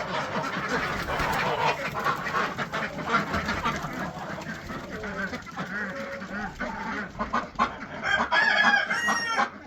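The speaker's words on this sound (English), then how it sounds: "the chickens are gonna start jumping" Hens cluck and a rooster crows inside a barn as the doors open for the first morning of 2024, busy overlapping poultry calls filling the space, with a louder, closer burst of squawking near the end.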